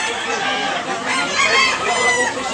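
A Talisayon rooster clucks and crows loudly and close by, its calls running continuously for a couple of seconds.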